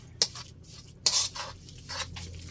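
Okoy fritter batter being mixed in a bowl while cooking, with a few scraping, clinking strokes of a utensil against the container, fairly quiet and spaced apart.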